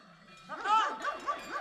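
Shepherd's dogs bark near a flock on a mountain trail in the Alpes-Maritimes, a few close, rhythmic barks starting abruptly after a quiet moment, with faint background activity.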